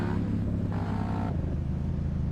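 A car in the video game GTA V is driven flat out, its engine a steady loud drone with a shift in pitch partway through, alone with no talk.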